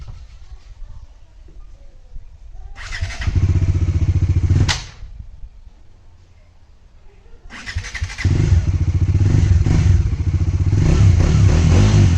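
A motorbike ridden with bags tied on by rope, its engine starting up in two loud bursts of steady chugging separated by a quieter pause, close to the microphone with no talk.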